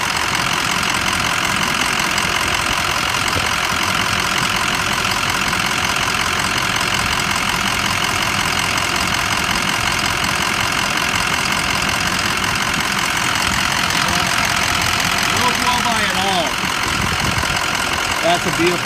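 A 2004 Ford F550 engine idles steadily and close by with a broadband rumble that runs unbroken the whole time, faint knocking texture in it, and a brief shift near the end.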